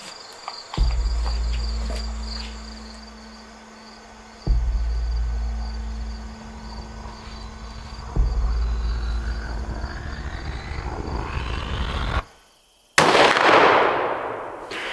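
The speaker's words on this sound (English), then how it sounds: "So Colby makes a great shot" A rifle shot on a deer hunt at a Texas ranch, three sharp loud reports spaced several seconds apart over steady insect chirping outdoors, then a brief dropout and a rushing noise at the end.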